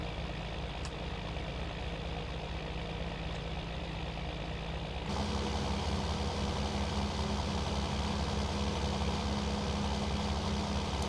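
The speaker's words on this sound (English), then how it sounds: "pick out the tractor we're going to use for the baling" A Fendt tractor engine idles in Farming Simulator 19, a steady low diesel rumble that steps up to a louder, fuller drone about halfway through and holds there evenly, with no talking.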